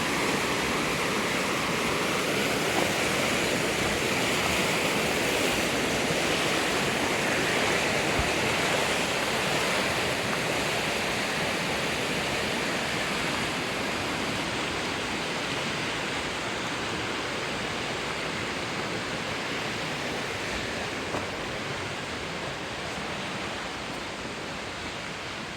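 River rapids rush through the middle of the city in Petoskey, Michigan, with a loud, steady, close roar of churning water that holds unbroken throughout, and no voices.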